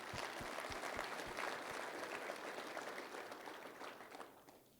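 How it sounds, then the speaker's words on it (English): A crowd applauds at a Georgia PGA annual meeting, with several sharp individual claps at the start over a thick wash of clapping that fades toward the end. "one more round of applause"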